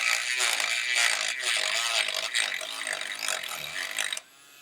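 A NAKOOS cordless rotary tool with a sanding attachment running in low mode against a wooden board, giving a steady high whine and rasp with a fluctuating load that cuts off abruptly near the end.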